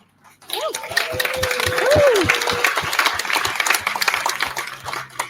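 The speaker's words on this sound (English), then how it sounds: "I can't even get halfway through my introduction and get applause" Audience applause at a Special Olympics Illinois Summer Games event, with dense clapping rising and holding loud through most of the stretch, cheers and whoops on top and a voice speaking over it.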